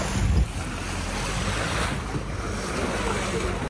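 A shikara boat moving through fast-flowing water, a continuous broad rush of water and wind buffeting the microphone, steady and fairly loud throughout with no clear talk.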